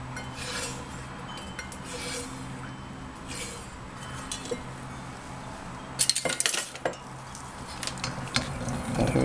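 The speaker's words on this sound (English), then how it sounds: "Mix that around a little bit." Lye solution mixed with silk, at about 100 degrees, is stirred into soap batter: soft scraping and clinking of a utensil against the container, with a sharper clatter of knocks partway through and no talking.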